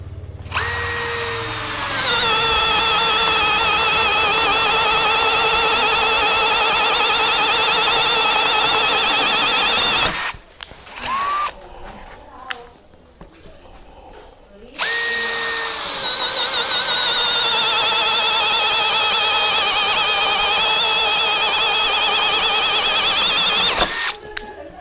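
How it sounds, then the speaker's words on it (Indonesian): A Bosch drill with a fan-type bit bores a 40 mm hole, screaming at a loud, steady high pitch for about ten seconds, stopping briefly amid handling noise, then whining again just as loudly. "Sekarang kita coba yang 40 mili ya. Kira-kira sanggup gak bor ini?"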